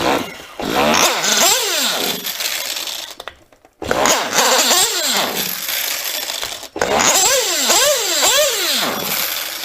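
A small engine with a loose clutch bell sputters to life and idles roughly, a loud, close, uneven rattling drone that drops out briefly twice as it nearly stalls before catching again.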